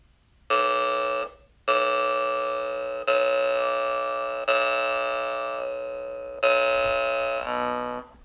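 A Blackfire rings with a bell-like tone, giving five separate sustained strikes in a steady rhythm, each a bright, close tone that slowly fades before the next.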